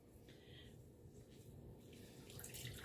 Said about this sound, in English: Look at all of that water that comes out.